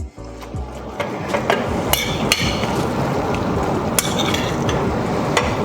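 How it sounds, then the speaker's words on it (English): Thick reduced syrup pours and drips through a strainer, giving a dense, continuous spattering wash with scattered sharp taps of metal, close and fairly loud. "Our syrup has reduced. So it is about ready that we can strain it now."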